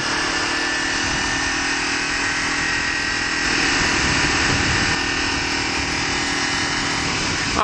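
A 300cc motorcycle is ridden steadily, its engine a loud, constant, buzzing drone mixed with rushing wind noise and no pauses.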